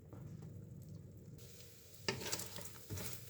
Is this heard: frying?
yes